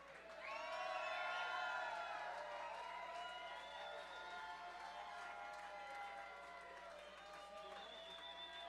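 An audience claps and cheers for the Tipitina's Interns at Instruments A Comin' 2015, a loud sustained wash of applause with whoops and a voice over it, fading slightly toward the end.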